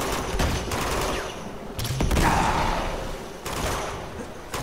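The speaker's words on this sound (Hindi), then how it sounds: "अरे यार ये तो गोली मारे जा रहे हैं।" Enemy gunfire in Uncharted 2: Among Thieves, a loud fusillade of rapid shots in bursts that fill the scene, with no talk over it.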